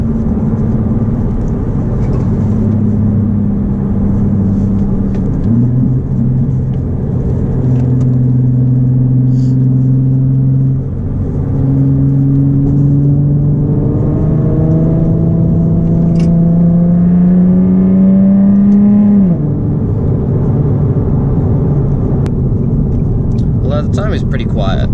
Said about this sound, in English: The Tommy's pretty quiet when you're just cruising around, to be honest.